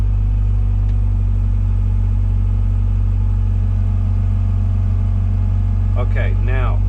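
Komatsu PC 120-6 excavator engine runs steadily at a low, heavy drone throughout as the bucket closes, a constant near rumble with children's voices briefly over it near the end.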